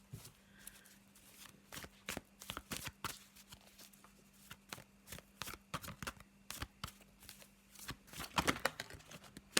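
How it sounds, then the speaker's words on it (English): A black-and-white Faulkner tarot deck is shuffled close by in quick, quiet bursts of card riffles and soft taps that keep up with few pauses. "a little shuffle of the black and white Faulkner deck"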